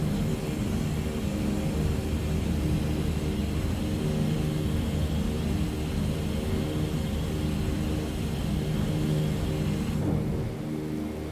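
Droning twin radial engines of a Douglas DC-3 in flight in a flight simulator, a steady loud rumble with a constant hum, easing slightly near the end.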